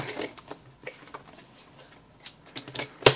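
Scissors cut paper for a handmade Christmas card: scattered soft snips and rustles, with one sharp, louder cut at the end.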